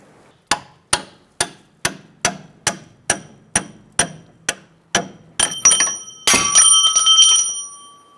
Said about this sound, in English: I'm going to take this punch out. Might have to tap it out.